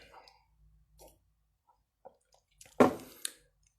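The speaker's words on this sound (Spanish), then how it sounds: "Voy a beber un poquito de agua." A person takes a few small sips of water in a quiet room, faint wet drips and swallows followed by a brief gulp and soft exhale.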